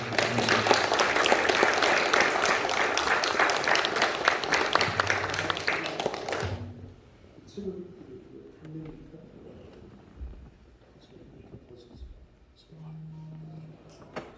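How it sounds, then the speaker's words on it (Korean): An audience at a funeral hall bursts into loud, dense applause to welcome a speaker, lasting about six seconds before cutting off abruptly into quiet room sound with faint scattered noises. "자, 우리 박수로 환영하겠습니다."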